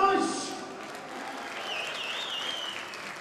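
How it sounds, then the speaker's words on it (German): An audience applauds at a Berlin carnival gala show with a tribute band, a dense, steady clapping that runs throughout, with voices heard near the start. "großen Applaus"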